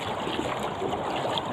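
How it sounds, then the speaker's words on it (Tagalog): Rough sea water washes around a boat in a rocky harbour with a continuous, close rushing and splashing and no voices. "Kaya ang alon malaki."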